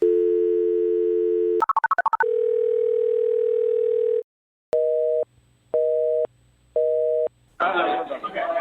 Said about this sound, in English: All right, I'm dialing.